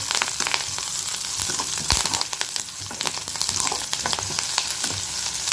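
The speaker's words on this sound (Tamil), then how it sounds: "இப்போ இப்போ 3 சேர்ந்து நல்லா வதங்குது." Curry leaves and chopped vegetables sauté in a hot oiled pan for lunch, a steady, close, dense sizzle and crackle running throughout with occasional stirring scrapes and clinks.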